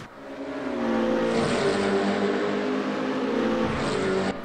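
Race cars in the sim racing video game RaceRoom, a loud sustained engine roar with steady harmonic whine that shifts pitch slightly as the cars run close past, without talk.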